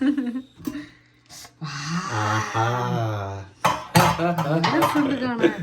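Metal clanks and a lid scraping against a pressure cooker of mutton pulao as it is opened, followed by clattering cookware, with a voice murmuring and a brief laugh in between.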